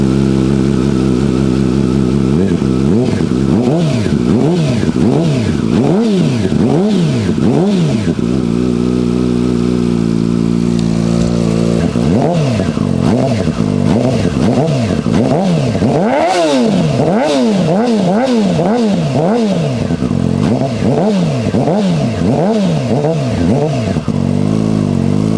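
Yamaha R6 motorcycle with a cut exhaust revving hard and repeatedly, loud, raspy rising and falling bursts up close, with a short idle dip midway before more aggressive revs.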